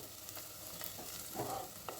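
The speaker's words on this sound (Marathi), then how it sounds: "कांदा असा परतून घ्यायचा आहे, त्याचा रंग असा सोनेरी होऊस्तर" Onions are sautéed in a pan over high heat, giving a faint, steady sizzle with soft scraping stirs and a brief louder crackle midway, heard alone.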